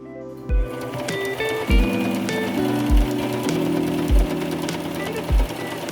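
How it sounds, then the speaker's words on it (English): A sewing machine runs in steady bursts, straight-stitching the side seams of a refashioned quilted mini skirt, its motor whirring loudly with a thump at the start of each run; no one speaks. "Now go ahead and straight stitch the sides with the pattern sides facing each other."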